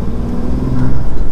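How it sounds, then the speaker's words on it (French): Low, steady engine rumble from a new Bentley Continental GT, a deep droning hum heard close by for a moment with no talking. "je sais pas si vous entendez bien le son de la voiture, le son du moteur derrière"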